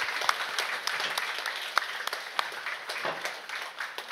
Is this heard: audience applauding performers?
yes